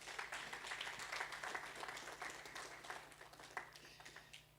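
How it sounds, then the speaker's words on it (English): Quiet, distant clapping from a summit audience in a conference hall, a loose patter of hands that thins and fades over a few seconds. "A round of applause again."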